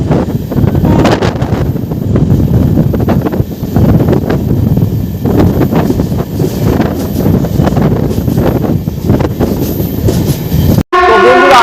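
The Ernakulam Howrah Express passing close by, a loud sustained roar of wheels and carriages with clickety-clack and wind buffeting, horn sounding within it, before an abrupt cut near the end.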